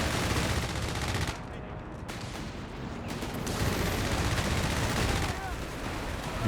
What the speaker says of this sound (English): Comes another ASC strafe.